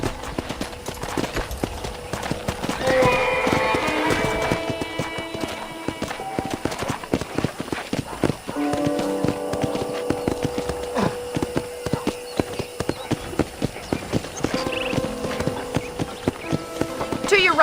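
Horse hooves clip-clop at a gallop in the video game Red Dead Redemption, rapid rhythmic beats running throughout, with a brief whinny and people talking over them.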